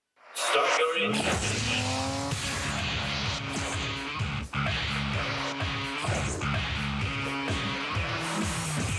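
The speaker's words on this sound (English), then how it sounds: "Start your engine." Race car engine roaring and revving with tire squeals and skids in a Mobil 1 motor oil commercial, loud and continuous with shifting engine pitch throughout.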